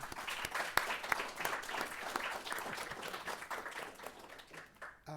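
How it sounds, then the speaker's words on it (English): Sustained audience applause at a library fellows event, a dense wash of many hands clapping steadily for about five seconds before cutting off near the end. "Round of applause again."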